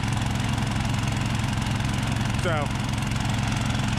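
A gold dredge engine runs at a river site in Idaho, droning loudly and steadily at an even idle throughout, with a brief squeal rising partway through and a single spoken word.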